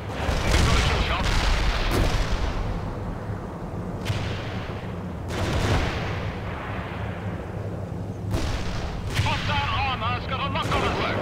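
Repeated artillery fire in the World in Conflict strategy game during a deep strike mission: heavy booming salvos with sharp onsets land every few seconds over a rumbling battlefield, while radio-style voices talk throughout.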